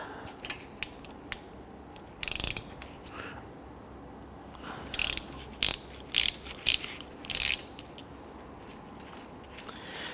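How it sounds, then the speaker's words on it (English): A ratchet loosening the 17mm caliper bolts on the front brakes of a 2010-2019 Ford Taurus, heard as scattered sharp clicking bursts in short clusters over a low, steady background, close by with no talk. "on the back side of our caliper, you're going to locate two 17mm bolts, one here, one on the top. You want to go ahead, loosen these."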